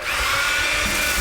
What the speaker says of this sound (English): So I'm going to do some sanding right now